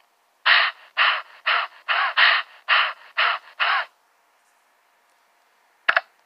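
Seagull calls from the children's game Bailey's Book House: eight loud, evenly spaced harsh squawks in quick succession, then silence and one brief click near the end.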